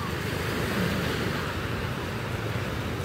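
Sea waves wash steadily along a beach at morning, a dense, constant surf roar mixed with wind noise on the microphone and no pauses or voices.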